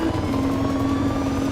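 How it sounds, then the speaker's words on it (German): A police helicopter in the racing game Need for Speed Rivals drones steadily with a sustained engine whine and low rumbling hum, loud and continuous without pause. "Helikopter."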